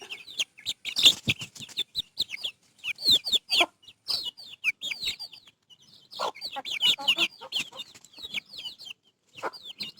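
A mother hen with newly hatched chicks fills the air with near, busy clucking and high chirps in rapid irregular bursts, pausing briefly now and then.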